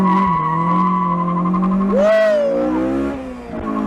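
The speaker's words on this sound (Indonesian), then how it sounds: "kita mau coba launch controlnya nih" A Honda Jazz fitted with a swapped K20 Type R engine holds revs on launch control, then surges with a rising, wailing note mixed with sharp squeal before settling into a lower drone, loud and close.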